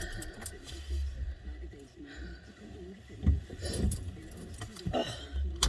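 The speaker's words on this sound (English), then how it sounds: "Take my key." Car keys jingle and clink as they are pulled from the ignition after the engine stops, a soft, close metallic rattle under quiet cabin background noise in a forest setting.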